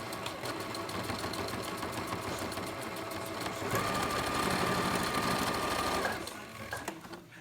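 A sewing machine runs steadily, stitching back and forth across a cloth face mask, with a continuous close whirring hum that rises slightly in pitch midway before slowing to a stop.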